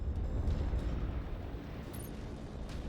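A partisan heavy tank blows up in MechWarrior 5, a deep, rumbling explosion that booms loudly at first and then rolls on as a sustained low roar.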